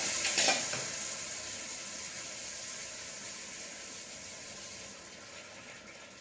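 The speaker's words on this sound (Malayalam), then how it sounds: "ഈ ശർക്കര പാവ് അങ്ങോട്ട് ഒഴിച്ചു കൊടുക്കാം" Jaggery syrup is poured into a pan of ground ashoka flower paste for a herbal lehyam, giving a brief splash up front, then a steady soft sizzling hiss that slowly fades, with no talking.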